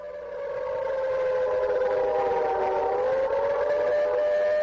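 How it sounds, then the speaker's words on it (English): The wailing sirens of the Eloi: a loud civil-defense-style siren rising in pitch and holding a sustained, slowly wavering drone, alone and close. "I give you the sirens of the Eloi."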